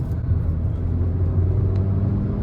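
A 1.5 TSI Skoda Slavia engine rumbles loudly and close during a rev-matched downshift, its low drone rising and settling as the revs change, with no talking.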